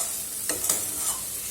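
Lote fish jhuri dries and sizzles in a pan while a spatula stirs it, giving a soft steady crackle with a few distinct scraping strokes, quiet and close.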